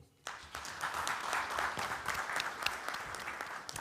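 Conference audience at the Zambia Institute of Marketing annual conference and awards ceremony bursts into sustained applause after a brief quiet start, a dense, even wash of many hands clapping in a large hall.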